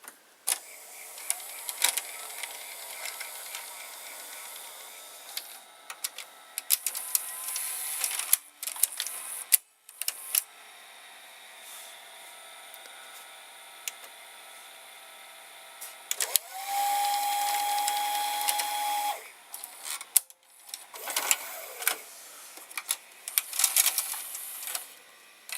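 A quiet Sony VCR tape mechanism running, a faint steady whir with soft ticks and clicks, brief pauses and a short higher-pitched motor whine partway through, all close and without talk.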